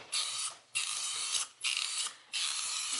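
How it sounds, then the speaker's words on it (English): Aerosol spray paint going onto the intake manifold of a 1969 Ford Mustang 302, close hissing bursts in four passes of roughly half a second to a second each, with short pauses between them. "I'm going to go paint that intake manifold and check it out"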